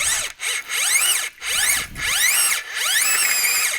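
A high-pitched drill with a 5-inch bit whines in repeated bursts drilling small holes in the ground, spinning up and down with brief pauses between holes, loud and close.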